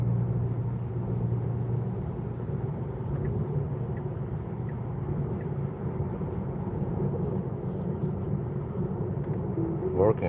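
A pickup truck loaded with cabbage, engine labouring in a low gear, rumbles steadily and nearby, a constant low drone held for the whole stretch with faint road noise around it.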